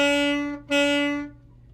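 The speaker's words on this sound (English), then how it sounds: "now I'm going to accent each of those quarter notes." A band instrument plays sustained, tuned notes with hard accents: each note hits loud and then backs away. The notes are close and clear, with no talking, and a brief gap separates them.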